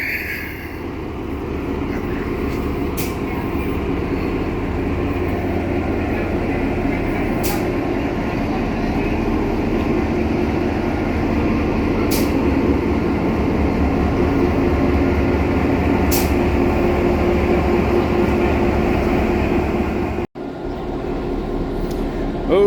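Steady low rumble and rattle of a train carriage on a heritage railway in Indiana, loud and continuous throughout with faint clicks, cutting out briefly near the end before resuming.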